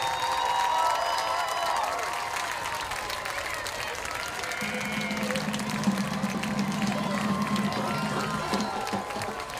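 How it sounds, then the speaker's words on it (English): A crowd applauds steadily throughout at a high school football game, a dense wash of clapping with some cheering, heard from within the audience. "let's give a big round of applause to the Pike Road Intermediate School"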